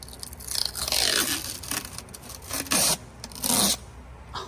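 Protective film peels off a new truck differential cover in close, crackly scraping strips, with several sweeping rips and brief louder tearing bursts over a few seconds.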